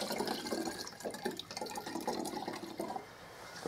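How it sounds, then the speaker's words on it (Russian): Filtered liquid mycelium nutrient solution is poured into a container, giving a soft, steady trickling stream that runs for several seconds at low level with no talk. "Сейчас будем наливать то, что у нас тут нафильтровалось."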